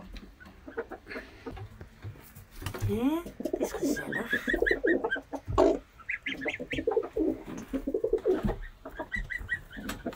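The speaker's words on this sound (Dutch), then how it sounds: "De duifjes, die zitten hier." Pigeons coo in a farmyard pen shared with geese and hens, with other fowl clucking and calling nearby, the soft repeated calls mixed among close speech.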